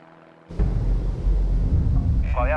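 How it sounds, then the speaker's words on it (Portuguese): A small airplane flies over wilderness during an aerial search, its engine a deep, loud, steady rumble that starts suddenly and continues up close. "O piloto inicia uma busca aérea por Neil."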